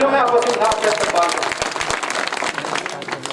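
Audience at a mushaira breaking into applause, a dense burst of clapping from a crowd, loud and close, under a voice speaking over it at the start.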